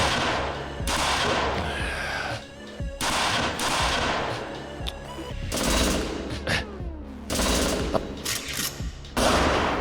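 Rapid bursts of gunfire crack and echo in a tactical firefight, with clustered automatic volleys and single shots loud and close, separated by brief pauses.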